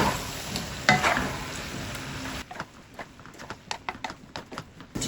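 Food sizzling and frying in a pan while being stirred and mixed, with loud scraping at first and then a run of irregular clattering stir strokes over a softer sizzle.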